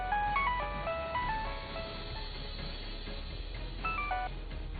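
Phone keypad tones beeping in a quick series of short notes as a number is dialled, then a ringing tone, heard clearly in a dramatised household scene with a steady background hum.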